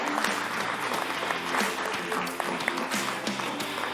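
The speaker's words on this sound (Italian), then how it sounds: "Allora, un applauso a tutto il settore giovanile." An audience claps steadily and loudly for a youth sports section at a sports club gathering, dense continuous applause with a few scattered voices in the crowd.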